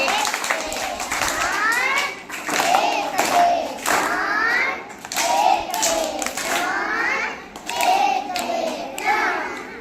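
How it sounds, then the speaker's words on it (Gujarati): A group of schoolchildren claps in rhythmic sets of three, sharp hand claps recurring in bursts while young voices chant along loudly in between. "આપણી તાળી છે ને જે ત્રણ ત્રણ એ પાડવાની છે"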